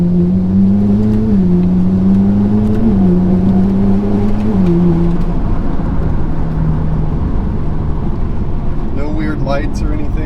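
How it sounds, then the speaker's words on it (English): A repaired Ferrari 458 supercar on its first road drive after reassembly, engine tone droning steadily and shifting pitch in steps, loud and close throughout, with a brief higher whine near the end. "got your car on the road, so I'm going to do its maiden voyage since we got it all fixed"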